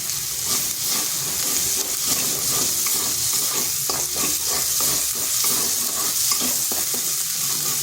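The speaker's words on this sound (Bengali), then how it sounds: "মশলাটা একটু কষে নিচ্ছি।" Ground spice paste with turmeric and chili powder sizzles steadily as it is stir-fried in a hot pan, a loud close crackling hiss with faint scraping of the spoon and no voices.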